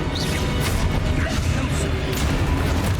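Spell explosions from Expulso, Confringo and Depulso go off in the Hogwarts Legacy video game, forming a continuous loud barrage of crashes and booms with whooshing magic over dense low rumble.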